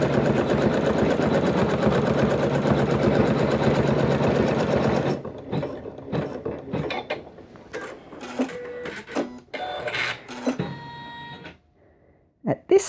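A Janome Skyline S9 embroidery machine stitches a trapunto quilting design, its rapid rhythmic whir running loud and steady for about five seconds before stopping, followed by scattered clicks, taps and handling noises up close.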